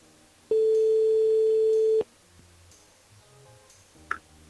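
A telephone line rings during a radio call-in, with one steady mid-pitched ring tone lasting about a second and a half, then faint line noise and a small click.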